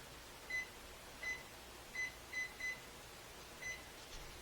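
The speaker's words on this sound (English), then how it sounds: "So I'm going to kick the timer on for 10 minutes." Kitchen timer being set while raisins soak in boiling water: six short, quiet electronic beeps spaced irregularly over a low background hum.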